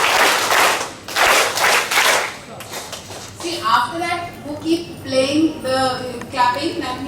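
Children clap together in a counting game at school, several quick rhythmic bursts of group clapping up front, followed by an adult talking.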